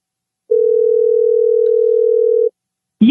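A telephone gives one steady, loud, pure tone lasting about two seconds while a call is placed, then cuts off, followed by a brief burst of another sound.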